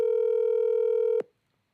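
A telephone call ringing out, one steady electronic ring tone held for just over a second and then cut off abruptly, loud and alone.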